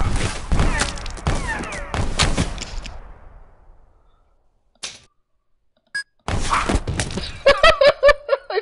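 Gunshots in the video game Gun Blood: a quick run of sharp cracks and thuds up front, then near silence broken by a couple of isolated hits, ending in a rhythmic series of punchy shots with ringing tones.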